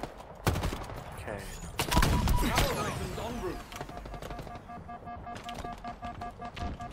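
Pistol and rifle fire in the shooter Halo on an old multiplayer map breaks out in sharp bursts, with some scattered shots and mechanical clatter, over the game's ambient sound.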